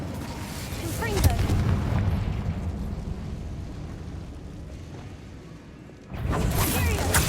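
Confringo explosion spell in a Harry Potter video game, a loud rumbling blast with debris that fades, then a second sharp burst near the end, with a voice talking over it.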